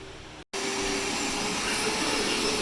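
A vacuum cleaner running in a car during sound deadening work, a loud, steady broadband roar heard up close that cuts out for an instant and then resumes at full strength.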